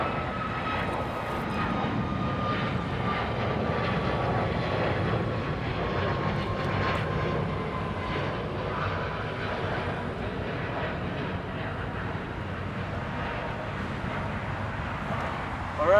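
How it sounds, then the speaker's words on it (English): Airbus A321neo jet airliner at LAX, a sustained distant engine roar with a faint whining tone, steady and even over the whole stretch, with a voice talking in the background. "Here's this A321neo."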